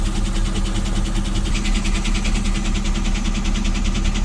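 A heavy engine runs steadily nearby, a constant low rumble with a faint rattling hiss above it, no voices.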